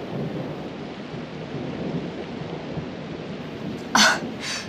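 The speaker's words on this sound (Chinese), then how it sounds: "这么大雷声不怕吗？" A thunderstorm rumbles low and steady with rain hissing throughout, then a sharp loud crack near the end with a brief fainter echo after it.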